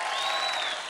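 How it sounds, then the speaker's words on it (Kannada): Loud, dense applause from a studio audience at a Kannada comedy show, a steady wash of clapping lasting about a second with no talk over it. "ಜೋರಾಗಿ ಚಪ್ಪಾಳೆ"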